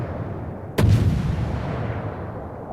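A single heavy naval gun blast in the World of Warships video game booms sharply, then rolls away in a long fading rumble over steady game ambience.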